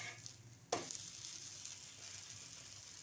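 An onion uttapam crisping on a hot pan gives off a faint, steady sizzle, with one sharp clack near the start as the pan or a spatula is touched, then continuous quiet frying alone.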